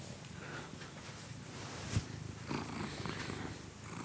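A big, fluffy house cat purrs close up, a steady soft rumble throughout with a brief snort or rustle near the middle, no talking.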